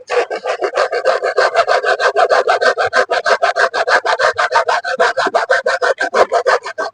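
On a Hero Karizma ZMR motorcycle, the indicator holder is cut with fast, rhythmic back-and-forth sawing strokes. Dozens of loud, close, rasping passes repeat evenly with no talking.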